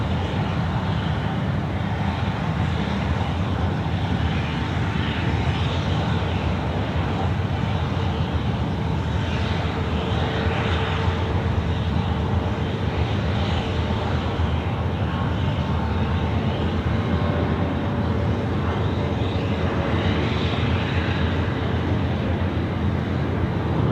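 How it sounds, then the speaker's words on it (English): Qatar Airways airliner departing at night from Sydney Airport on runway 34 left, a steady distant engine roar with a faint rising whine, heard without talk. "So this aircraft will depart tonight."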